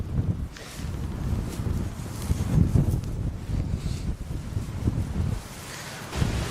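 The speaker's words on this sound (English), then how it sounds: "This wind's getting worse." Gusty wind blows outdoors during a metal-detecting outing, a steady low roar buffeting the microphone, swelling and easing throughout with no speech.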